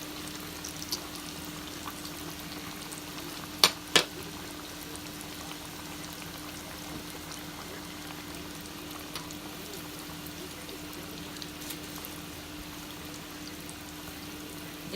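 Breaded chicken deep frying in oil gives a quiet, steady sizzle and hiss, with a couple of sharp pops early on and no voices over it.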